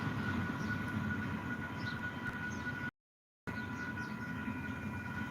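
A train rolling past, a continuous rumbling roar with a steady hum and faint metallic squeals, loud and close throughout, briefly cut out midway, with no talk.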